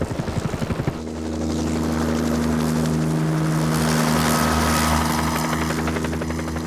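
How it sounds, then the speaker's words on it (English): A helicopter's rotor chops rhythmically at first, then the engine and rotors rise into a loud, sustained roar with a steady whine, close and continuous, no talk. "The chopper spins in response to the pilot depressing one of 2 foot pedals."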